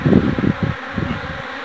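A dense, low buzzing of many honeybees at an open hive during an inspection right after swarming, loud and close, swelling and dipping in waves.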